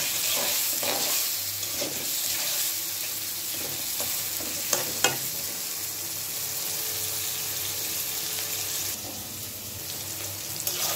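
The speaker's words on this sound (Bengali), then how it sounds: "শুরুতে আমি একটা খুব সুন্দর করে ভেজে নিচ্ছি" Pieces of rohu fish fry in a pan for a do pyaza, giving a steady, close sizzling hiss with a few brief clinks and stirring sounds throughout. No one speaks.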